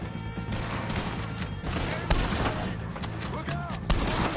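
Rifle shots ring out during a Red Dead gunfight against O'Driscolls. A few sharp cracks, the clearest near the two-second mark and again near four seconds, cut through a constant wash of game noise, with a voice talking over it.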